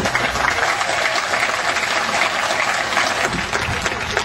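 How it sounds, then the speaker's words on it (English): Warm, steady applause from a concert audience at a big band show, continuous dense clapping heard close and full throughout. "Let's give him another big warm round of applause."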